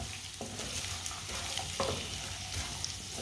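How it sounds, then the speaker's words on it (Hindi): Carrots cooking in a pan over medium heat, stirred with a spoon, giving soft sizzling and frying with scraping stir strokes, fairly quiet and close. "इसे चम्मच चलाते हुए पकाना"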